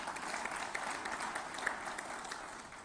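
Audience at a promotional launch event giving a round of applause, a faint, steady wash of many hands clapping heard from a distance, continuous throughout.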